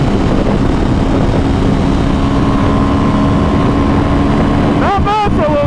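A 2017 Ducati Monster 797 motorcycle engine drones steadily in sixth gear at speed, with loud wind rush around the rider and a voice briefly cutting in near the end.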